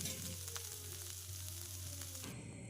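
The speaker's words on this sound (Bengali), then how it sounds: "তারপরে একটু নাড়িয়ে নিচ্ছে মানে চারিদিকে যাতে ছড়িয়ে যায় নুন হলুদটা" Salt and turmeric being stirred into a hilsa fish head frying in a pan, a steady soft sizzle of hot oil with faint scraping, close but quiet, with no talking.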